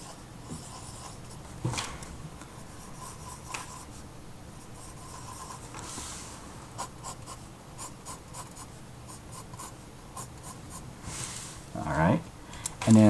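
A pencil scratches and strokes across paper while drawing manga-style hand lines, short intermittent strokes heard close under quiet room tone, with a few louder rubs near the end.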